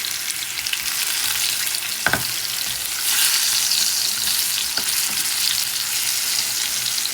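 Potatoes fry in a pan, a loud steady sizzle with a couple of brief stirring scrapes, no talking.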